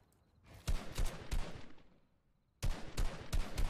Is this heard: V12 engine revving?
no